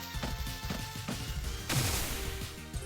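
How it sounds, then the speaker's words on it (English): An explosion in the video game Sea of Stars bursts partway through as a sudden crashing blast over busy game music and effects, then trails off into a rumbling tail. "Boom, explosion."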